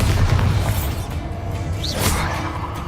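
A Bombarda spell goes off in Hogwarts Legacy, a loud deep boom followed by whooshing swishes and a sharp burst, with no talking.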